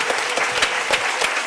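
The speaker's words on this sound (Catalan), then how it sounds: "només us voldria demanar així d'entrada un gran aplaudiment per tots ells i elles" A crowd applauds a gospel choir at an outdoor summer festival concert, a short burst of brisk, closely spaced clapping with a few sharper individual claps standing out.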